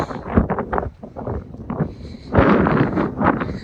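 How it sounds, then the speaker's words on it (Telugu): Strong wind gusts buffet the microphone on the Dover coast, a rough roaring rush that swells and surges in waves, loudest near the end, with no talking. "కాకపోతే గాలి విపరీతంగా, చలి లేదు కానీ గాలి బాగా."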